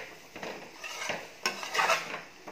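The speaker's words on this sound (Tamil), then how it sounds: "நல்லா இந்த மசாலாவோட இந்த பீன்ஸ் பருப்பையும் உருளைக்கிழங்கையும் நல்லா அப்படி பரட்டி விட்டுக்கோங்க" Boiled butter beans and potato are stirred into masala in a pan for a Tamil butter beans kulambu, with a spoon scraping and clinking against the metal in several uneven close-up strokes.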